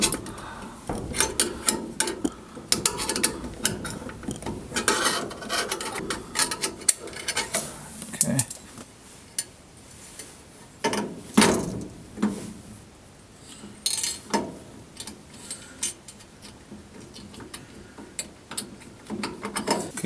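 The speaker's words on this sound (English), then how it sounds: "so we just put the locking nut on it, tighten it up here" A locking nut is tightened onto a knockout on an Aprilaire 700M humidifier, giving close, intermittent metallic clicks, scrapes and clanks in irregular bursts with quieter gaps.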